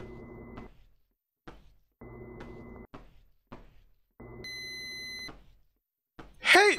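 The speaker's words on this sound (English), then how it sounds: "Is that my oven beeping?" Oven timer in the horror game Doghouse, repeated electronic beeps in spaced bursts with knocking between them, then a longer held tone.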